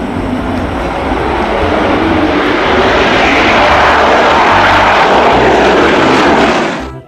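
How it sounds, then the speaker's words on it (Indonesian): A toy fighter jet sound effect roars loudly and steadily with a jet-like rushing whoosh, then cuts off abruptly at the end, with no talk. "lihat teman-teman, ada pesawat tempur"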